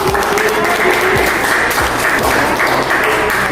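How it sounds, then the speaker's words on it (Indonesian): Steady, dense applause from a classroom audience fills the whole stretch, loud and close with no pauses, a crowd of hands clapping continuously. "itu kita kasih aplaus dulu"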